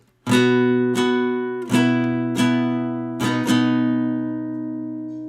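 Plucked guitar notes ring out one after another, several strums of the same three-note shape, each left to sustain and fade.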